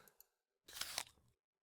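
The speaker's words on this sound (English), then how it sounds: "I hear a sudden, satisfying crunch from somewhere across the room." One short, crisp crunch in the visual novel game Atri -My Dear Moments-, like a bite into something crisp, heard close and alone after two faint clicks, with silence afterward.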